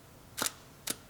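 Two crisp mechanical clicks of a camera shutter, half a second apart, close and clear against quiet background.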